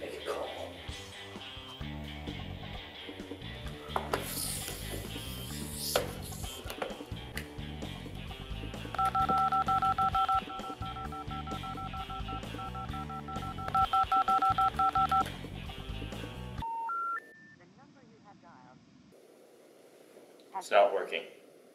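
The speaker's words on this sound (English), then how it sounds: "Oh, you dialed out to get out." Telephone keypad dialing tones, sustained dual-tone beeps in two bursts over a busy background of music and talking, then a few short single tones after the background drops away.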